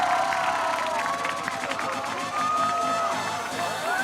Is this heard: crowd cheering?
yes